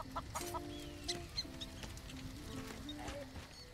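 Chickens cluck in short, repeated bursts in the video game Elder Scrolls Online, a busy stretch of small calls and chirps over faint game ambience.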